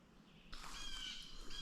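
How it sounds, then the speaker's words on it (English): Birds call out in a Wisconsin national forest, a faint, distant wash of chirps and squawks with a thin high whistle that swells in after a moment of quiet. "Did you hear all those birds going wild?"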